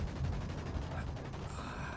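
Rapid gunfire crackles in the tactical shooter game Ghost Recon Wildlands, a fast series of quiet, evenly spaced shots running through most of the moment at low level, with faint background game noise.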